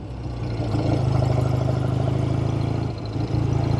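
A 1970 Triumph TR6 sports car engine hums steadily while driving, a strong low throaty drone with a brief dip near the end before picking back up, close and loud.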